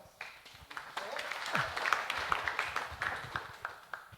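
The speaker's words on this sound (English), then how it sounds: "Let's give Saya a round of applause." Faint, scattered applause from a small gathering at an intergenerational service event honoring a woman named Saya, with individual claps picking out of soft crowd noise and voices murmuring underneath.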